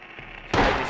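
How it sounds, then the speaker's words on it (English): A single sharp gunshot in Silent Hill cuts in abruptly after a quiet, low rumbling moment and rings out briefly before fading. "I just shoot him."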